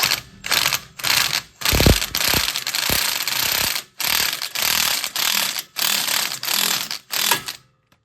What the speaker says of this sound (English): you put your impact on Tighten.